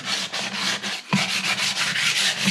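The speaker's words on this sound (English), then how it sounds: "you do want to sand it pretty good" Wood is sanded by hand before a polyurethane coat in steady, loud back-and-forth rubbing strokes, close up and rhythmic, with a brief pause near the middle before the scraping resumes.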